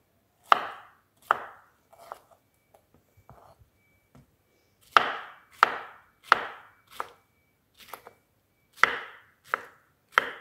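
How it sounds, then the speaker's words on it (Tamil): A knife chops pineapple into small pieces on a board with sharp, close thuds in uneven bursts, separated by brief quiet gaps. "இதை இனி சிறிய சிறிய துண்டுகளாக வெட்டி எடுக்கணும்."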